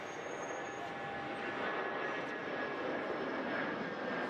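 Airliner carrying Queen Elizabeth and Prince Philip departing from Ireland, a steady, loud broadband roar of aircraft engines that holds without a break, with no voices.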